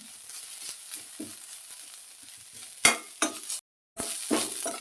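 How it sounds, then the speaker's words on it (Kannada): Grated coconut dry-roasts in a pan, giving a faint steady sizzle broken by scraping stirs and a few sharp clinks of a spoon against the metal, with a brief cut to silence. "ತೆಂಗಿನ ತುರಿ ಹಾಕ್ಕೊಳ್ತೀನಿ. ಒಂದೆರಡು ನಿಮಿಷ ಹುರ್ಕೊಳ್ತೀನಿ"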